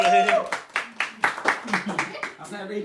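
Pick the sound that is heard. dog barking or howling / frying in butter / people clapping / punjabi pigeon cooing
people clapping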